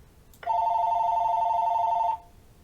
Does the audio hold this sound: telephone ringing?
yes